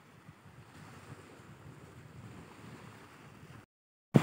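Strong wind roars across open sea in a steady, rushing wash that mixes with the sound of waves, then cuts off abruptly near the end, followed by a brief loud bump.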